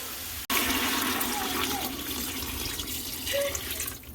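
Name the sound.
water poured into a pot for beef stock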